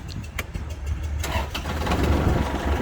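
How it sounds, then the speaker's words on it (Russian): A Kubota GL25 mini tractor's diesel engine cranks with a few sharp clicks, catches and settles into a steady close-up running rumble that grows slightly louder. "Я думаю, что прекрасно слышно, как работает трактор."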